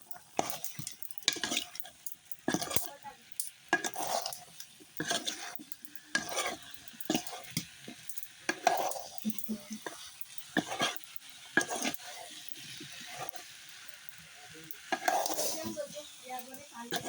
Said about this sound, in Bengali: চামচ দিয়ে নেড়ে দেবো, সব একসাথে মিশিয়ে নেব।